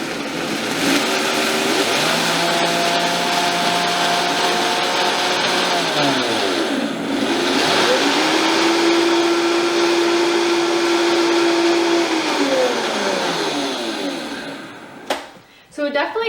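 A blender grinds oats into fine powder, its motor whining loudly and steadily, rising and falling in pitch as the speed changes, then slowing to a stop near the end.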